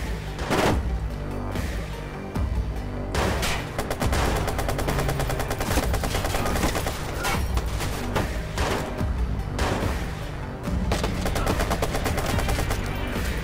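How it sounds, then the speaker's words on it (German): Loud, sustained gunfire in a firefight in the video game Watch Dogs, with rapid bursts of automatic shots and heavy reports layered almost without pause. "was ist hier für ein krasses Gefecht?"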